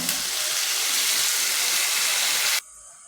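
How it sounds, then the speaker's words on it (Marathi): Water poured into a tomato, coriander and ground masala paste in a cooking pan gives a steady, loud rushing hiss that runs about two and a half seconds and then cuts off abruptly. "त्याच्यामध्ये पाणी थोडंसं घालायचं आहे"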